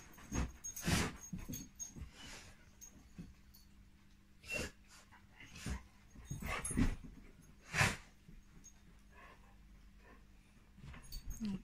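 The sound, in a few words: dogs playing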